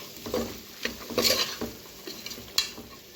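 Vegetables for a veg biryani sautéing in oil in a pan, with soft scraping stirs and light sizzle, a few louder spoon strokes standing out near the mic without any talking.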